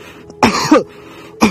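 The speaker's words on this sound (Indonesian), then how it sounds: "kemudian kita sengaja batukkan." A short, forceful cough in two harsh bursts, close and loud, followed by a second cough a moment later, with no talking.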